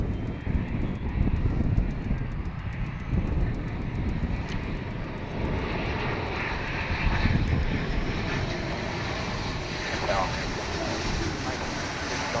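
An airliner takes off at Dallas/Fort Worth Airport, its jet engines giving a loud, steady broadband roar throughout, with faint radio chatter in the background.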